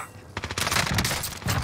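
Bursts of automatic gunfire during a Call of Duty Warzone match on Rebirth Island, close and loud, with rapid cracks from about halfway through, mixed in with game sound.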